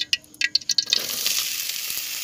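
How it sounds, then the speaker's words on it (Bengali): Cut potatoes go into hot oil in a kadai wok at an outdoor picnic cookout. A few sharp clinks and splashes come first, then a steady, close sizzle takes over. "আলুটা ভালোভাবে ভেজে নেব।"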